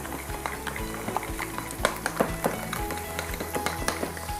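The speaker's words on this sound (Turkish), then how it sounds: "güzelce karıştırmaya devam ediyoruz" Tahini is stirred into a sizzling pan mixture for mütebbel, a steady sizzle and frying hiss under repeated soft scrapes and clinks of a spoon against the pan, with no talking.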